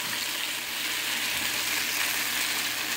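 Hamburger Salisbury steak simmering in gravy in a pan inside a van, a steady, even sizzle and bubbling hiss that runs unbroken throughout.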